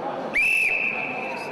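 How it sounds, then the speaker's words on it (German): A jury's whistle gives one short, shrill blast to start the games at a volunteer-groups' games event outdoors, heard over a steady background murmur of a crowd. "mit einem Pfiff der Jury startete man in die Spiele."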